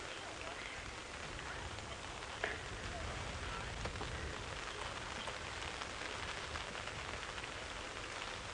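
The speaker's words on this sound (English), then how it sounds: "And there's certainly going to be a great deal more rain." Steady rain pours down during an evening safari drive, a dense, even hiss of drops on surfaces that continues unbroken throughout, with a faint knock or two in the background.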